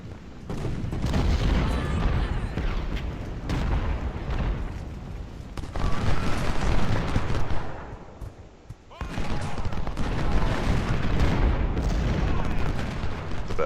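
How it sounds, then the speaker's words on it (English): Massed howitzer and cannon fire during a Civil War battle at 1st Bull Run in Ultimate General: Civil War, a dense, continuous rumble of booming shots and volleys that stays loud throughout, dipping briefly near the middle before swelling again. "Especially the larger howitzers will just rout a unit by themselves once they've entered a certain range and you take a full barrage."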